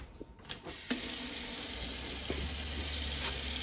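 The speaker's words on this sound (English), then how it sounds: "So let's go wash our hands before we start cooking." Tap water runs steadily into a kitchen sink while hands are washed before cooking. A few clicks and handling noises come first, then the water flow starts and continues evenly, close and moderately loud.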